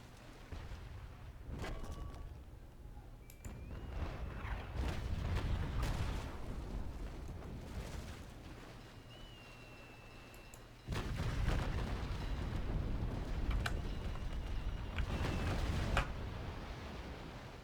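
A ship explodes in a Naval Action sea battle: heavy cannon-like booms and rumbling blasts roll on for many seconds, with a loud fresh burst about two-thirds of the way through.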